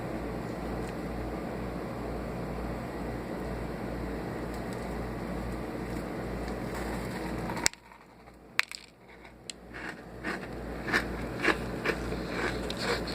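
A steady background hum cuts out, then close, crisp crunching follows as someone bites into a crunchy vegan Mississippi slugburger and chews.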